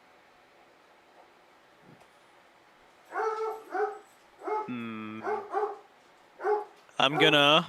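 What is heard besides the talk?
dog barking in the background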